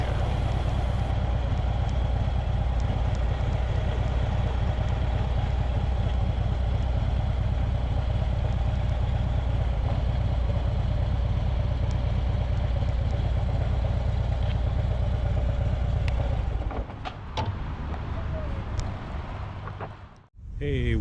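A motorcycle engine idles at a riverside park by Tingue Dam, a steady low rumble that runs close and unbroken for most of the stretch before dipping and sputtering briefly near the end.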